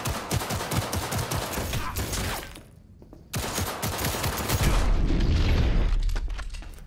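Dense, rapid gunfire fills a Cyberpunk 2077 firefight, with bursts, booms and clattering shots nearly nonstop, a brief lull around the middle, then a heavier, louder barrage toward the end.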